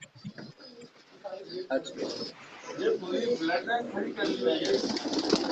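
Pigeons coo softly at a loft while someone talks over them, their low rolling calls repeating beneath the speech and rising in places.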